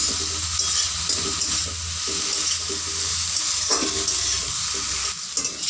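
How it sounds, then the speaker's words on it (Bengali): Eggplant frying with neem leaves in a pan, a continuous close sizzle with occasional scraping stirs, steady and loud with no one speaking. "এটাকে এইভাবে ভাজা ভাজা করে নিতে হবে বেগুনগুলোকে"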